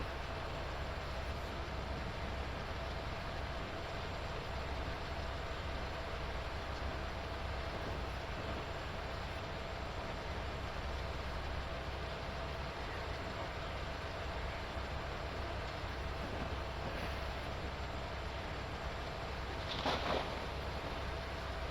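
Freight train rumbling steadily along Sherman Hill in a train simulator game during stormy weather, a continuous low engine drone with rail hum, no speech.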